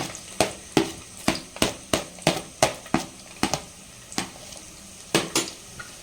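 Chopped onion is stirred into a hot clay pot over a high flame, giving a run of sharp, close scraping clacks at a quick uneven rhythm over a soft sizzle, with no talking.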